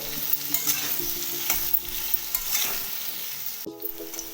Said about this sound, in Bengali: আলুগুলোকেও আমি লাল লাল করে ভেজে দেব লো ফ্লেমে বারবার করে নাড়াচাড়া করতে হবে